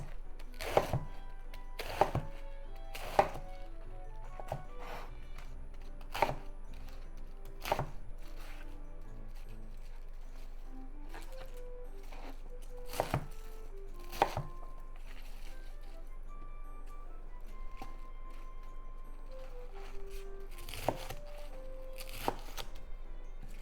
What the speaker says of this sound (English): let's cut the cabbage into bite-sized pieces.